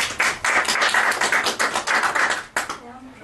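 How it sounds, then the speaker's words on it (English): A small audience claps for Caroline at a psychology talk, a brief burst of hand clapping that stops abruptly, followed by a moment of quieter room sound. "Round of applause for Caroline then."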